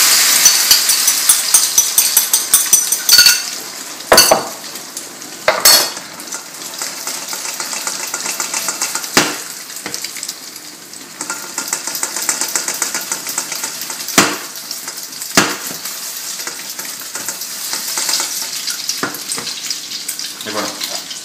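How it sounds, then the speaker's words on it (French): Beaten omelette egg poured all at once into very hot oil for Cantonese fried rice, giving a loud, steady frying sizzle broken by sharp clatters of utensils, with a voice talking over it. "Là, l'huile est vraiment très chaude, alors attention, on verse ça d'un seul coup."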